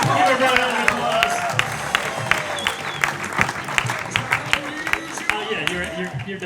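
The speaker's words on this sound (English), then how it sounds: "Give everyone an applause." An audience at a Toastmasters conference comedy set claps loudly and continuously, with scattered cheers and voices mixed into the applause.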